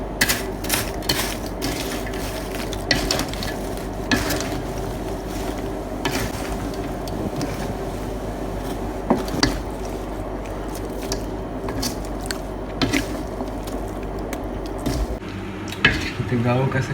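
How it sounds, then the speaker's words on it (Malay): Marie biscuits being stirred and folded into a chocolate ganache mixture for batik cake, giving steady close scraping and stirring noise with occasional clinks of a utensil against the bowl, no talking. "Kita gaulkan sekata sampaikan semua yang terkena coklat."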